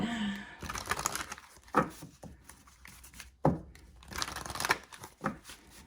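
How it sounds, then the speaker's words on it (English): Tarot cards being shuffled by hand come through as several bursts of crisp riffling and slapping, with pauses between, fairly close and moderately quiet, with no speech over them. "So I'm going to go ahead and shuffle and get some additional messages."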